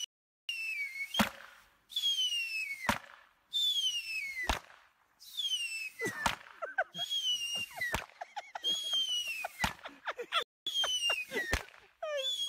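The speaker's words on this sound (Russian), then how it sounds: "Представляем вариант бюджетного фейерверка" Cheap New Year fireworks: about ten rising whistles, each ending in a sharp crack, fired one after another in a steady series, close and loud outdoors.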